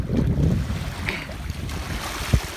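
Ocean waves surge and wash near the shore, a loud rushing roar with wind buffeting the microphone, swelling and easing over a couple of seconds with a brief splash near the end.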